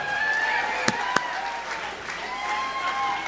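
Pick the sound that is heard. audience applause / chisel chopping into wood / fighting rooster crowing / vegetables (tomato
audience applause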